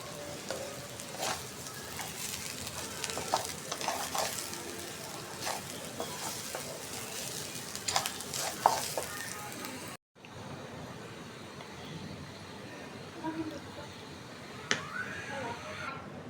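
Pulao ingredients with ground cumin paste sauté in a pan, a steady soft sizzle with scraping stirs and clicks throughout, a brief break partway, and a quiet voice now and then.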